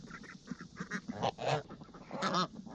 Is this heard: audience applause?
no